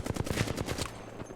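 Rapid gunfire from an Apex Legends ranked arenas match: a dense string of loud, close shots fires in quick bursts and then tapers into a fainter rattle near the end.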